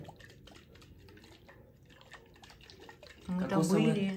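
Water from a freshly cut coconut drips and trickles in a few soft, close splashes, then swells into a louder, steadier pour near the end.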